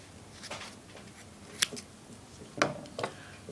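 A few sharp snips of scissors or cutters trimming the strand ends of a two-tone King Cobra paracord bracelet, close and quiet, with three distinct cuts spaced apart over faint background noise.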